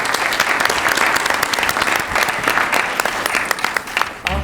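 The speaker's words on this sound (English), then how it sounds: "Let's give them a round of applause." Audience applause for panel speakers at a New Jersey League of Municipalities session, a steady dense clapping from a room of people that runs loud and continuous for several seconds before tapering slightly at the end.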